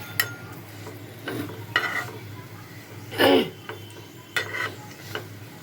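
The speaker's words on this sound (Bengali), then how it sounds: "এটা আস্তে আস্তে ভাজা হয়ে যাবে, সুন্দর করে ভেতর বাইরে সুন্দর ভাজা হয়ে যাবে।" A bread sandwich fries in a pan over low to medium heat, giving a faint, steady sizzle broken by several sharp spatula scrapes and taps against the pan, one louder clatter in the middle.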